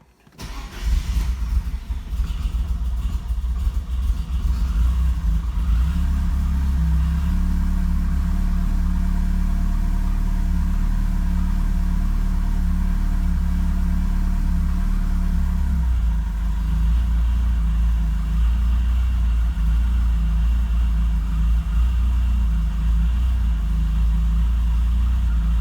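A 1987 Porsche 944 Turbo engine cranks and catches on a cold start, then settles into a loud, steady idle with a constant low rumble and a slight drop in pitch partway through.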